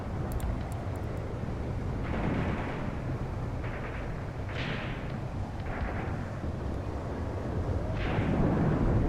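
Distant mortar rounds and explosions on a WWII Eastern Front battlefield in Graviteam Tactics: Mius Front, dull thuds and rumbling booms at irregular intervals over a constant low battle roar.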